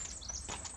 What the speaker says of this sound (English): Can hear the birds singing out here.